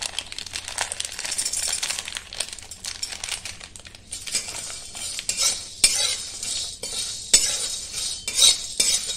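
Malvani masala spices dry-roasting in a pan, stirred with a metal spoon that scrapes and rustles continuously, with occasional sharp clinks against the pan, close and alone.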